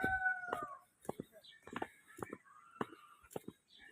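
A Rhode Island Red rooster and hens are heard up close: a short crow and several clucks from hens, with soft whispering voices between them.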